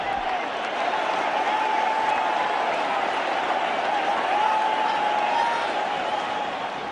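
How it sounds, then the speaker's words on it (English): A cricket stadium crowd at a 2001 India–Australia Test roars and applauds after a wicket falls, a broad sustained wash of cheering and clapping with a distant horn-like tone above it. "The crowd here are on their feet"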